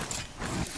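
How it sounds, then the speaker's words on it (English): Apex Legends weapon reload, a short burst of mechanical clicks and metallic clacks from the gun's action, close up and brief with no voices. "Reloading."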